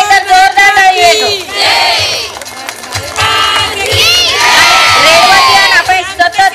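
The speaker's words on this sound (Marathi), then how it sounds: "जोरदार टाळी येतो" A large crowd cheers, shouts and whoops at an International Women's Day festival event in Akola, loud and continuous, with rising bursts of high, excited voices that swell and fade over several seconds.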